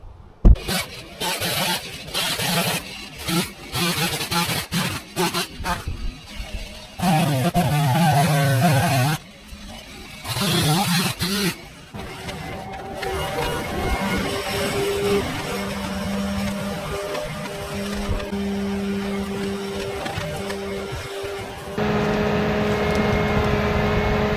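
A Kubota SVL75-3 compact track loader's diesel engine runs steadily nearby while clearing trees and stumps, with clanks, scraping and shifts in load breaking up the drone throughout.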